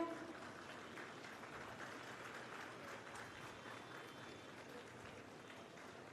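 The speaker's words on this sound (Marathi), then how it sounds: "जोरदार टाळ्यांचा कडकडाट होऊ द्या" Sustained crowd applause at the inauguration of the Nagpur Metro's Kasturchand Park section (Sitabuldi–Zero Mile–Freedom Park line), a dense, steady wash of clapping lasting throughout with no pauses.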